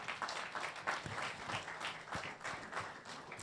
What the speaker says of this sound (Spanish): Por favor, Isabel, un aplauso